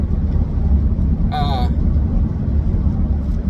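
Steady low road rumble fills the cabin of a car as it drives, constant and fairly loud, with a short burst of voice partway through.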